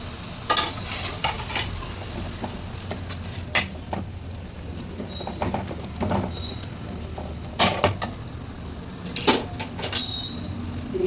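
Tomatoes sizzle in a frying pan as they are stirred, a steady low crackle broken by scattered scrapes and clinks of the utensil against the pan, fairly quiet and close, with no one talking.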